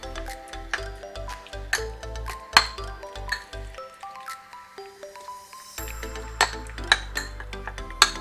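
Chicken thigh being mixed by hand in a bowl with pepper, salt and corn flour for Fujian fried rice: repeated wet squishes and light clinks against the bowl, set against background music.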